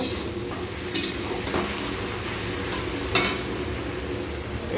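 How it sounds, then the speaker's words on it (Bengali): Potatoes frying in a pan on a home stove, a steady low sizzle with occasional clinks of a utensil against the pan, fairly quiet and close. "এই আলু ভাজা হচ্ছে"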